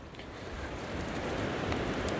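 Steady rain falls through a young, windy woodland in a UK storm, a dense continuous patter with gusty hiss that swells slightly louder partway through, no voices.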